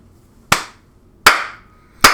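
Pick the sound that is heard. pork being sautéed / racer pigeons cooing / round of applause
round of applause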